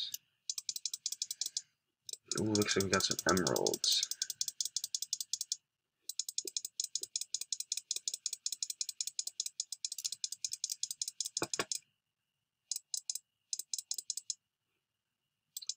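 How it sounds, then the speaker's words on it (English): Rapid computer mouse clicking during video game play, long fast trains of crisp close clicks broken by short pauses, with a game sound burst and a man's brief remark partway through. "There's gonna be a lot of clicking. I apologize."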